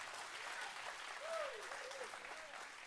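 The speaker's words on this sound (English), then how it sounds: "you can clap again, please." A church congregation claps for people being baptized during a service, with fairly quiet, steady applause spread through the room and a faint voice rising over it partway through.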